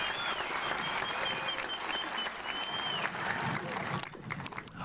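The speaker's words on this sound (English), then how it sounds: "let's give them all a big round of applause" A large audience at a high school commencement ceremony applauds steadily, a dense wash of clapping that holds for several seconds before thinning out near the end.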